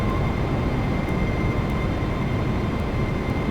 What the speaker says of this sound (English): Reverse thrusters.